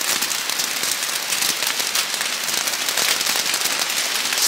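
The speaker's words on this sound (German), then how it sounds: "Guckt euch mal an, wie das hier rumtropft." Heavy rain drips and patters everywhere outdoors during a survival challenge, a loud, dense, continuous crackling spatter with no voices.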